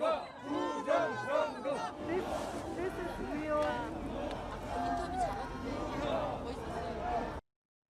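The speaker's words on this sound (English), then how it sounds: "Very animated crowd." A crowd of protesters in South Korea shouts and chants together, a loud, animated mass of overlapping voices with rising cries and babble filling the whole span before cutting off abruptly.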